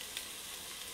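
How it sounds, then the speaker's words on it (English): Celery and peppers sautéing in a pan on the stove, a steady soft sizzle throughout, close and without voices. "now what I'm gonna do is just saute this for a bit"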